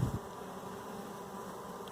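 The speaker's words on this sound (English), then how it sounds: "the queen brings a lot of bees with her, a lot of minions" Honey bees swarming around a hive after a queen's return from a mating flight, making a dense, steady buzzing drone close by, with a couple of brief louder bumps at the start.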